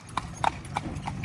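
Horse hooves clip-clop on pavement while pulling a horse cart in Bukittinggi, West Sumatra, Indonesia; four or five distinct sharp clops in an uneven walking rhythm, fairly close, over a low rumbling background.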